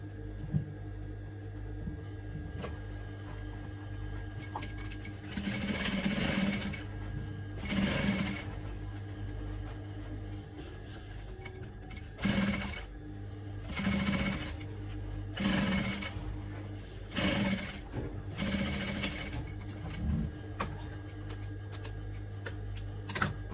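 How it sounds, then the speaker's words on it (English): A sewing machine joins the upper part of a plus-size bra cup to the lower piece, running in several rapid whirring bursts separated by brief pauses and soft handling sounds, close and alone. "so now you sew the upper part to it"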